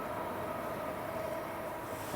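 A train rolls past at night as a steady, loud rumble with a sustained tonal hum filling the whole moment, near and continuous with no voices over it.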